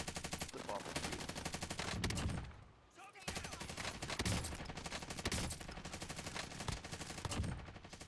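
Continuous rapid gunfire from a gun in a video game, loud and dense, with a brief lull near the middle before the shooting resumes at the same pace.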